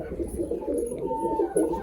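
Pet pigeons cooing in a backyard loft setup, soft repeated low throaty coos rolling on continuously at close range, with no talk over them.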